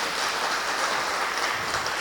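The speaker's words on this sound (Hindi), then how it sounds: "शिविर कैसी लगती है वो तालियों से पता चले हमें" An audience at a spiritual camp claps together, a dense, even patter of applause that holds steady at moderate volume for the whole short stretch, with no talking.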